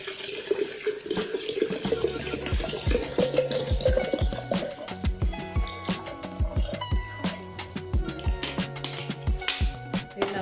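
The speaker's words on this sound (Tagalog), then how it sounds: "Yung isang litong tubig po ibuhos natin sa" A liter of clean water is poured into a container in a home kitchen, a steady close splashing stream at first that breaks into scattered drips, clinks and trickles for about ten seconds, with no talk over it.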